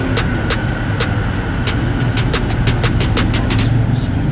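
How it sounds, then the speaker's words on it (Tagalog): Higer bus of Daet Express, a 49-seat first-class coach, pulls forward with a steady engine rumble and a loud, constant low drone, while faint clicking ticks repeat over the top and a voice may be speaking underneath. "sumabante na yung bus"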